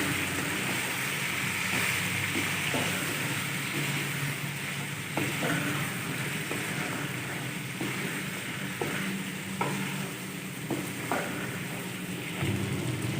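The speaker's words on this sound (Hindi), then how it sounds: "सारे मसालों को अच्छी तरह से फ्राई कर लेंगे।" Coriander and cumin powder masala frying for a chicken handi, a dense, steady sizzle that stays loud throughout, punctuated by occasional taps and scrapes of stirring.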